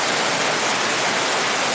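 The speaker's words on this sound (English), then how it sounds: "That's supposed to sound like a thunderstorm, but it sounds like I'm flushing the toilet." A thunderstorm sound effect plays over a video call, a steady, dense broadband hiss like rushing water or a flushing toilet, loud and unbroken with no voices.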